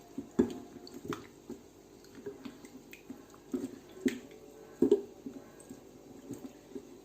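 Soft wet squishes and dabs come as marinade with soy sauce is rubbed by hand onto chicken leg pieces, an irregular run of quiet close sticky sounds.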